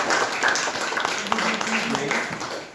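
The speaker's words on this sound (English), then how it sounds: "clap for Aniket." A crowd claps steadily for a few seconds, with voices mixed in beneath the applause.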